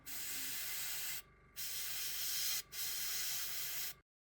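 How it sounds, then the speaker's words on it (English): A Water Eclipse airbrush spraying paint onto the cockpit of an F-4C Phantom II scale model, three steady hissing bursts with short gaps between them, close and even, then silence. "using my Water Eclipse airbrush and very carefully applying that, requiring some detail work with the airbrush"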